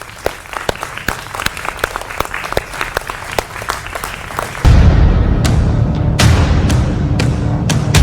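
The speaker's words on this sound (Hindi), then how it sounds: "जोरदार तालियों के साथ अभिनंदन है आपका।" A studio audience claps, first in scattered sharp individual claps, then swelling into dense, loud, continuous applause that holds to the end.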